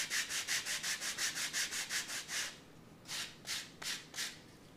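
Sandpaper is rubbed by hand along the wooden wing root of a catapult glider to remove laser burn, giving quiet, rhythmic scratching strokes: a quick run of about a dozen even passes, a pause, then four slower strokes.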